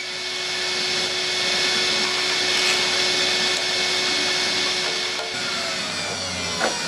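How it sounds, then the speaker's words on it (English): A vacuum cleaner cleaning out a biomass boiler roars steadily and loudly from start to finish, a constant broadband whine with a faint steady hum underneath and no talking. "go around again with a vacuum cleaner to tidy up everything you've dislodged"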